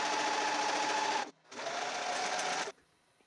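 Serger sewing machine running fast through a sweater seam, a loud steady buzzing whir in two bursts with a short pause between, then stopping near the end.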